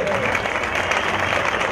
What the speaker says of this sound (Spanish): Fuerte el aplauso nuevamente